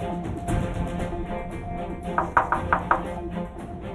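Four quick knocks rap on a door in a dramatized home scene, clustered in the middle of the clip over a low background hum.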